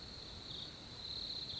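Jungle crickets in a continuous high, thin trill, faint and steady, slightly louder toward the end.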